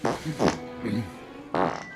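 Comedic farting from a crowd of drunken, flatulent small creatures in a Christmas gnome film, a few short blurting bursts with gaps between them, close and fairly loud.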